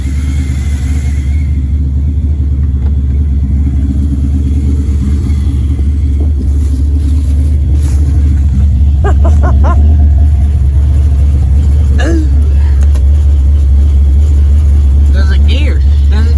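A 1979 Camaro engine idles with a steady low rumble just after its first start, holding a constant loud drone throughout while people talk nearby.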